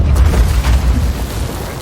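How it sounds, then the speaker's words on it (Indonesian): A loud, deep explosion from a landmine set off by a wild boar, a heavy low boom that rumbles on for about two seconds with no talking. "tiba-tiba mereka dikagetkan dengan sebuah ledakan yang memperlihatkan seekor babi hutan yang menginjak ranjau bom"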